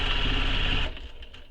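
A sewing machine stitches a handbag seam in one steady whirring run that stops abruptly just under a second in, leaving faint close clicks afterward.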